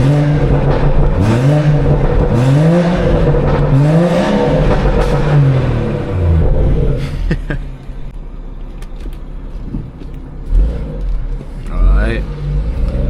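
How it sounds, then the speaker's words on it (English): A loud BMW 440i engine revs up close in repeated rising and falling pulls, then the revving drops off to a lower rumble with a few softer sounds. "Get y'all boys some revs."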